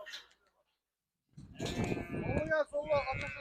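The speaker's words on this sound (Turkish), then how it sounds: "Keçiler var." After a short silence, goats bleat nearby at a Torbalı livestock market, a few wavering, nasal cries overlapping one another.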